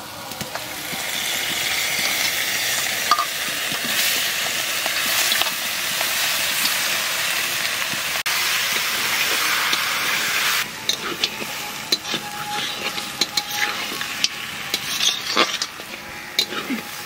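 Meat dropped into a pan of fried spice paste for a home-cooked family Bijoya Dashami meal sizzles with a loud, steady hiss, broken by occasional stirring clatters and a sharper burst of crackling partway through.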